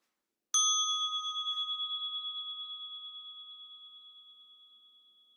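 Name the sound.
meditation bell being rung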